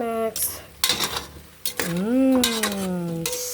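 A spoon scrapes and clatters around a pot of sinigang pork soup in short, close bursts, while a voice sings or calls out in long sliding tones over the stirring.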